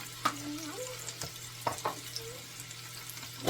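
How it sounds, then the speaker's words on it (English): Garlic and green seasoning dropped into hot oil for hot oil roti with pumpkin and shrimp, giving a soft, steady sizzle with a few sharp crackles and pops, fairly quiet, with faint kitchen noise around it. "I'm gonna start to add my garlic and green seasoning"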